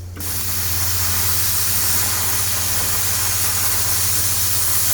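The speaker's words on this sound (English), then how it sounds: "So once again we're using the Sabre plasma on site. Never lets us down with the built-in compressor." A plasma cutter with a built-in compressor runs on a construction site, giving a loud, steady hiss with a constant low hum that continues unbroken after a brief start.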